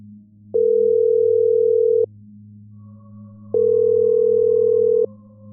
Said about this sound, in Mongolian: Ашгүй утсан дуудаж байна.